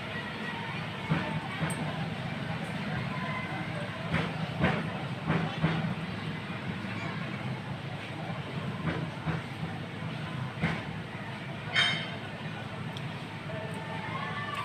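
Cloves and chillies drop into hot tempering oil for baingan raita, raising a loud, steady, close sizzling hiss that runs throughout with a few crackling pops.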